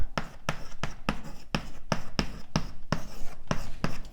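Rhythmic scratchy strokes of writing on a board during a cosmology lecture, about a dozen quick bursts in steady succession, close and fairly loud with no talking.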